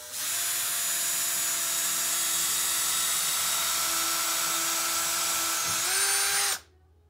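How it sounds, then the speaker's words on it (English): A power drill whines steadily and loudly while boring pilot holes in picnic table wood, its pitch holding constant then shifting briefly before cutting off abruptly. "I'm just going to drill holes first so the wood won't split"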